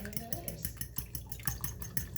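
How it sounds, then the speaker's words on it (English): A fork whisks eggs in a bowl for a keto chaffle batter, giving a fast, steady run of light scraping taps, close and moderately loud, with no talk over it. "we're going to definitely give that a good whisk with a fork"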